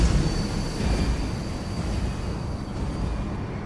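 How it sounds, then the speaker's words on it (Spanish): A tram rolls along in the sci-fi video game SWTOR, a steady low rumble of rail-car noise with a faint high whine, continuous and fairly close throughout, no voices. "esto es el tranvía"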